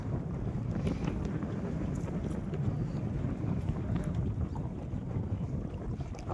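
Strong wind gusts over a tidal river in the Sundarbans, buffeting the microphone with a continuous low rumble and faint water movement, steady and fairly close, with no talking.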